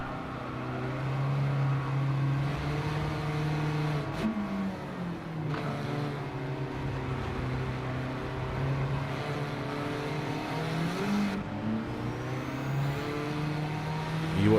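A race car engine drones at high revs throughout a racing video game lap, pitch rising and dropping with gear shifts, loud and continuous with no talking.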